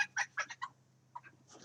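A hen named Aurora clucks while on a weighing scale, a burst of four or five quick close clucks followed by a pause and a couple more softer ones.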